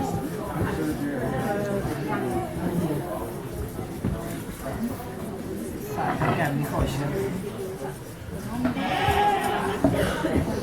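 Sheep bleat in short, loud bursts among the crowd at a spring blade shearing competition at Fernhill Farm, mixed with steady voices and chatter nearby.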